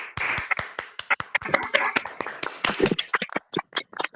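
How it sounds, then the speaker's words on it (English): Scattered handclaps from a small group on an online video call, uneven and sparse, with a few voices mixed in as the clapping thins out toward the end. "Can we give a big round of applause?"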